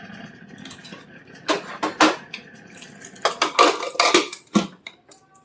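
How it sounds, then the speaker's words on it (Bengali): A metal pressure cooker lid being closed over drumstick leaves cooking in salted water: several close, sharp metallic clanks and scrapes in irregular bursts, with quiet gaps between them. "প্রেসার কুকারের ঢাকনা বন্ধ করে দিচ্ছি"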